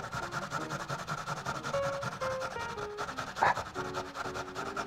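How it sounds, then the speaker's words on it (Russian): Potato is rubbed across the finest side of a kitchen grater, making faint, rhythmic, rasping strokes that repeat steadily, close but quiet, with no voices. "и опять-таки на самой мелкой терке мы его натираем"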